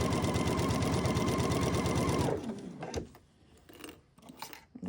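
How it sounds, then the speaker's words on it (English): A sewing machine stitches fabric cut slightly off the bias in a loud, fast, steady mechanical whir that winds down and stops partway through, followed by faint handling noises. "When we get to the end, we're going to back stitch lock that down."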